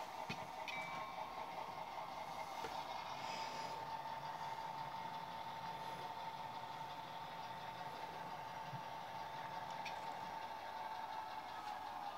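A steady low rumble of a train on rails with a faint hum, continuous and distant, with occasional light clanks.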